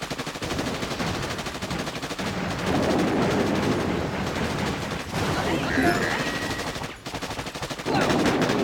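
Rapid, crackling gunfire and the thumps of mortar shells fill a Boom Beach naval battle against Zookas and boom cannons, loud and nearly continuous with brief dips and a few sharper bursts.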